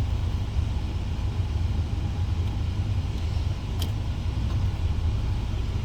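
A Volvo Turbo car engine running, a steady low rumble with a constant idling drone and no clear revving, close and fairly loud, with one brief faint click partway through and no talk.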